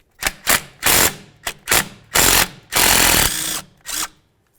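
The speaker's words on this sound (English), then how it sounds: "I'm going to go ahead and use a 10mm to remove that bolt." A hand ratchet fitted with a 10mm socket backs out a strut bracket bolt on a 2000-2005 Buick LeSabre, giving loud, close bursts of fast clicking in uneven spurts, the last one longer.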